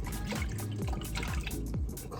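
Tap water runs into a sink while fruit is washed by hand to remove dirt and pesticides. A close, continuous splashing flow carries small dripping and gurgling textures throughout the short stretch.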